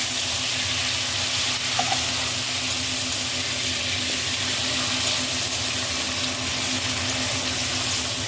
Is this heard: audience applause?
no